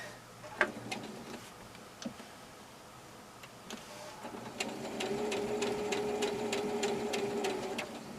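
A sewing machine stitches a patch pocket: a few isolated clicks, then a steady run of rapid rhythmic needle ticks over a motor hum, close and moderately loud.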